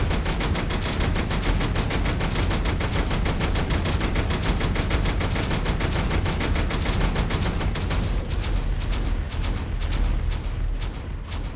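Continuous rapid automatic gunfire in a video game, dense and loud throughout, with a slight thinning toward the end.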